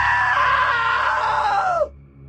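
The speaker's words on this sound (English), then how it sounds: "Now that was a great scream." A long, loud, sustained scream from the video game What Remains of Edith Finch, holding steady for nearly two seconds before dropping away sharply.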